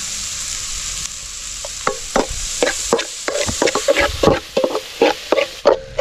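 Snail curry with chilli powder being stirred in a pan, a steady sizzle under a run of repeated scraping and knocking strokes from the spoon, close and fairly loud, with no talking.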